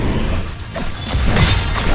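A heavy hammer smashing impact in the video game VOIN, with a booming thud and crunch, loud and close, over dense game-style background noise.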